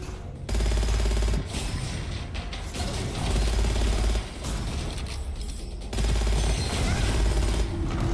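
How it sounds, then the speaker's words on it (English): Foundry pistol gunfire in a fast-paced video game: rapid mechanical clattering bursts in several volleys separated by brief gaps, loud and close. "always shoot them with the Foundry pistol to get more ammo"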